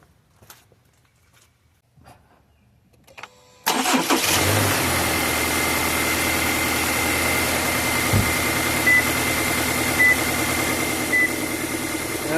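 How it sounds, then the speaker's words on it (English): A Subaru car engine cranks and catches after an oil change, following a few seconds of near silence with light clicks, then settles into a loud, steady idle that runs to the end without talk. "Now I will start the motor."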